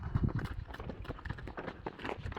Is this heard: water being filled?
no